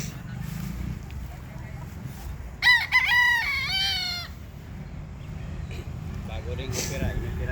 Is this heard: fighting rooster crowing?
yes